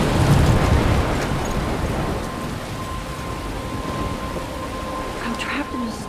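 In a video game, a storm rumbles with thunder, driving rain and wind as a steady loud roar, with a low rolling rumble at the start and a voice speaking over it.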